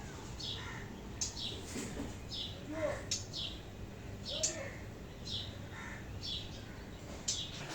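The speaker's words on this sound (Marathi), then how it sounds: "सकाळ सकाळी आमच्या इकडे पक्ष्यांचा कसा आवाज येतोय आहे" Morning bird chirps and calls repeat throughout over a steady background hiss, bright and moderately close, several birds calling one after another.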